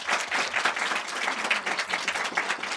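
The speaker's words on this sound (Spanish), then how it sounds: "les pido un fuerte aplauso para nuestros ponentes" An audience at a history conversation conference gives the speakers a loud, steady round of applause, with thick, continuous clapping throughout.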